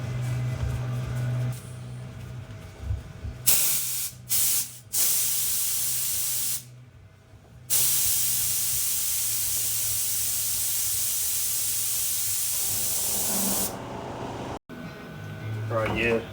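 A spray gun set to 30 psi shoots primer onto a Cosworth track car, with long, loud hissing bursts broken by brief pauses and a few short puffs, heard close.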